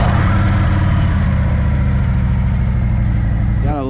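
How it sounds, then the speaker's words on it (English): Harley-Davidson CVO motorcycle idling after a cold start through a Chromeworks 2x2 Eclipse exhaust, a loud, steady, deep rumble close by that holds constant and then cuts off abruptly at the end. "Gotta love that nice cold start with my Chromeworks 2x2 full Eclipse system."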